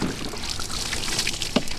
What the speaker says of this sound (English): the right way to do it is for me to empty this water